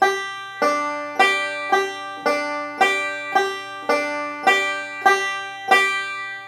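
Bright plucked banjo notes in a steady, repeating forward-roll pattern, each picked attack ringing briefly before the next, played alone and close.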